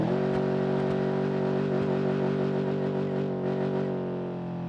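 A car engine revs hard in the BeamNG.drive racing game with the ETK W Series mod, a loud sustained harmonic drone holding steady, then easing slightly near the end.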